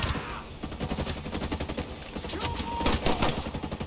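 Rapid bursts of gunfire from a Vector submachine gun in Ghost Recon Breakpoint, shots cracking out in dense, repeated volleys over continuous game background noise.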